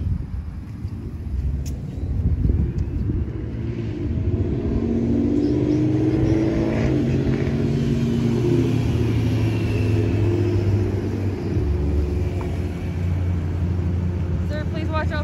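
Road traffic rumbles past in a low, heavy drone as vehicles go by, rising and holding steady, with voices faintly present beneath the noise.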